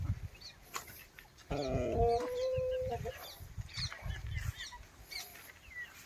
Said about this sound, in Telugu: ఇవన్నీ మా కోళ్ళు అన్నమాట, మీరు చూసుకోవచ్చు